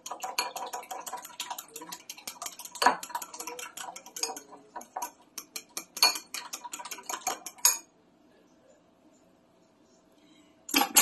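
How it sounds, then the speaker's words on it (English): Batter spiked with Texas Pete hot sauce whisked in a bowl for fried fish, a rapid run of close clicking and tapping against the bowl that pauses briefly, then resumes. "And I'm going to mix that up good."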